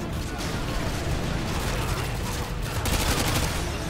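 Rapid gunfire from Call of Duty Modern Warfare 2 crackles as dense, overlapping bursts with booming low-end thuds, loud and continuous for the whole four seconds, like a heavy firefight.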